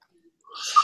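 After a brief silence, a single short, breathy sneeze bursts out nearby.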